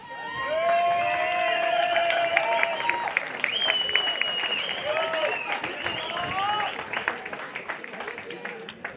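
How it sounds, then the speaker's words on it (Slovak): Audience applause and cheering at an awards ceremony for a run around the Môťová water reservoir, a steady crowd clapping that stays loud for about eight seconds before thinning out near the end. "Toto bol krásny potlesk."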